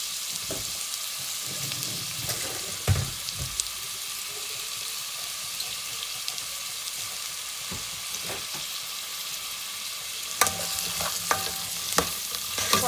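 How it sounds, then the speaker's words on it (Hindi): Chopped onions fry in ghee in a pan, giving a steady soft sizzle broken by occasional scraping stirs and clinks, with no talking. "प्याज को थोड़ा सा फ्राई करूँगी"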